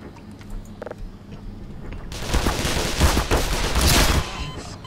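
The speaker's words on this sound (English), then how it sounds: "I'm about to shoot you in it" A burst of gunfire in the video game Black Mesa, starting abruptly after a quiet lead-in with a few faint clicks, then rapid, loud shots continuing to the end.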